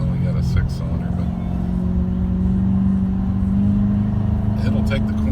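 A BMW with a six-cylinder engine hums steadily from inside the cabin while driving through corners, a low, even drone with slight rises in pitch, with people talking over it.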